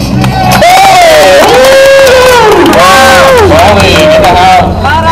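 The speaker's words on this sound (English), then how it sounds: "Give him the hugest round of applause in the world" Excited whoops and cheers from a crowd at a street drift car event, rising and falling loudly for a driver over a low background rumble.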